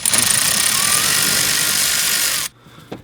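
A power tool spins off a brake line nut during a hydro boost replacement on a Duramax Chevy Silverado or GMC Sierra truck. It makes a loud, steady whir for about two and a half seconds, then cuts off, leaving a faint knock.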